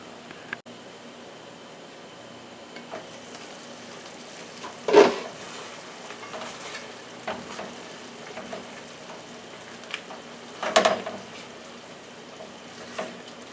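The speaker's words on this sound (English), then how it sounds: "We're going to bring that back to a boil." A pot of stewed chicken and vegetables simmers with a soft, steady bubbling hiss, and two louder clattering stirs break in a few seconds apart, close and moderately quiet.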